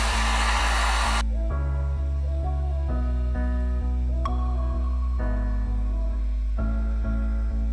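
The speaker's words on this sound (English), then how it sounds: "I'm going to go around with my heat gun again and just make sure that everything is nicely in place." A heat gun blows a steady, loud hum of air and motor across tinted PPF film on a car tail light, running continuously with a shift in pitch early on.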